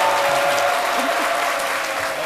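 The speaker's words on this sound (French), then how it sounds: "des applaudissements pour lui" Studio audience on a French midday TV show applauding a guest named Joël, a loud sustained clatter of many hands clapping steadily throughout with no letup.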